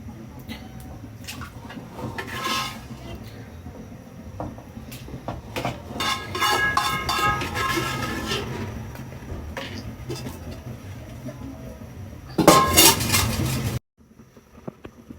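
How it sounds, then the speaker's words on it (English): Banga and parboiled meat are scraped and poured into a big pot of soup on the fire, with clanking metal, scraping spoon sounds and bursts of splashing before an abrupt stop. "So transferring it to the pot of banga on the fire"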